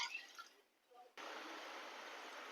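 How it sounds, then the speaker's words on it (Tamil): Water is poured into a simmering sardine curry masala, a soft trickle that gives way to a steady, sustained pouring wash, heard close and fairly quiet. "இப்போ அதே கப்பால் நம்ம 2 கப் தண்ணி சேர்த்துக்கலாம்."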